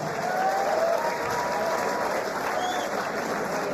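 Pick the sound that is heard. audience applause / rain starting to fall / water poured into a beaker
audience applause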